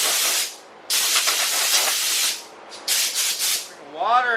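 Primer sprayed in bursts onto motorcycle parts hung in a paint booth, loud close hissing spray with short pauses between passes, ending on a compressor or mechanical whine.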